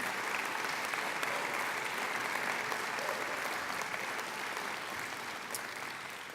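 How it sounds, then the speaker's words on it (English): A graduation hall audience claps in a sustained, dense round of applause, steady throughout and slowly tapering at the end. "I think they deserve a round of applause too"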